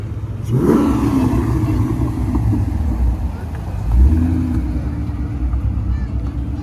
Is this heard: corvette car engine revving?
yes